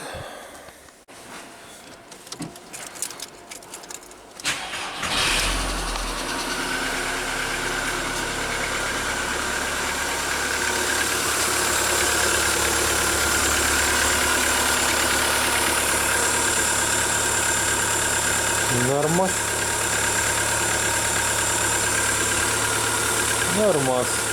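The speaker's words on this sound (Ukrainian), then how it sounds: "давайте все ж таки запустимо і подивимося, як воно тепер звучить двигунчик." A VW Bora engine cranks and catches after repair, then settles into a steady, loud idle that runs evenly for many seconds, with a couple of brief chirps near the end.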